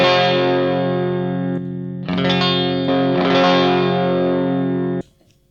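An electric guitar through a Tube Screamer TS9 overdrive pedal sustains thick, gritty chords that ring for several seconds, shifting once midway, then cut off abruptly.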